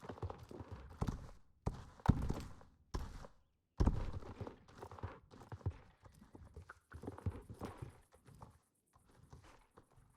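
Horse hooves clip-clopping on the ground during riding in a cozy video game, an irregular run of soft, close steps that slows and thins out toward the end, with no talk over it.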